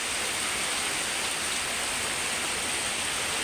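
Steady rainfall, a dense even hiss of falling rain with no distinct drops or breaks, moderately loud and constant throughout.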